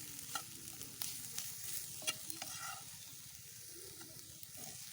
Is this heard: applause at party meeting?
no